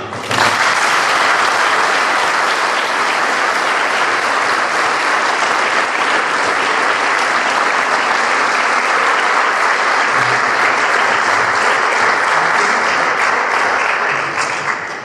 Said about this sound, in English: let's have a round of applause for Jenny Posthumus and Lisa Posthumus.